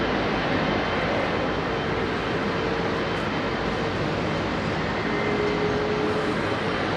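A United Boeing 777 at Heathrow Airport, a continuous broad jet engine roar at steady loudness with no gaps, heard from a moderate distance outdoors.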